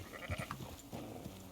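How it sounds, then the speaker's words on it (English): Sheep in the video game Red Dead Redemption 2 give short, wavering bleats, faint against a soft outdoor ambience. "Oh, we got some sheep here."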